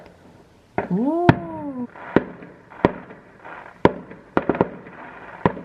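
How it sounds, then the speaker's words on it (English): Bonfire night fireworks go off at a distance, with repeated sharp cracks and pops at irregular intervals, and a rising whistle early on. A voice briefly exclaims. "So it's fireworks night and bonfire night, and everywhere you look you can just see fireworks."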